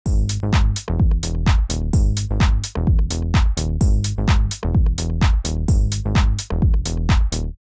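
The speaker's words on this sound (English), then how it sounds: "So the first bass is the Plucky Bass." A plucky house bass synth patch built in Serum plays a loud, punchy rhythmic riff of short plucked notes, each with a quick decaying tail, repeating steadily with brief gaps.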